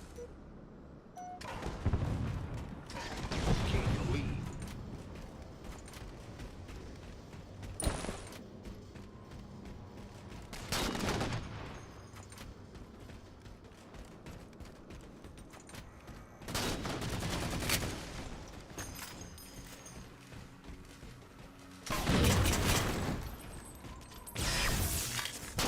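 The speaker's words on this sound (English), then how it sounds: "Who's shooting at me?" Gunfire in the game Anthem comes in repeated loud bursts, several distinct volleys spaced a few seconds apart over a steady mechanical background hum.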